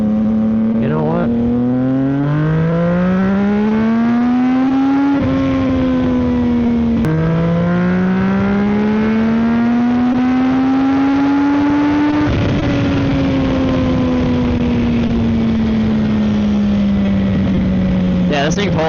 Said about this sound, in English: This bike absolutely rips, and the power delivery is a lot smoother.